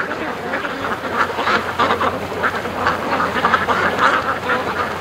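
Several ducks quack repeatedly close by at a lake, their calls overlapping in an irregular chatter over soft outdoor background noise.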